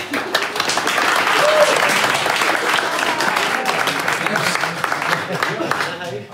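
An audience at a live show applauds, a sustained wash of dense clapping lasting several seconds while a voice speaks over it.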